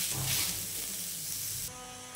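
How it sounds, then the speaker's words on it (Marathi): Chopped onions sizzle steadily in hot oil in a pan for chicken rassa, a loud continuous frying hiss that drops abruptly in level near the end. "आपला कांदा छान भाजला जात आहे।"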